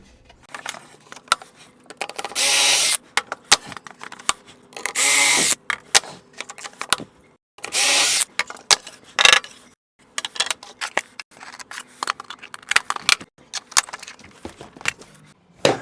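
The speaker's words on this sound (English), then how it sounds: "I'm going to add 3 pocket holes to the very back on that notch that we made" Bursts of power drilling into a wooden shelf, boring pocket holes at the back notch, several loud whirring runs of a few seconds each separated by clatter and handling of tools.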